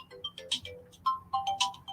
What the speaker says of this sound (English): every time I do a podcast, my phone rings, man.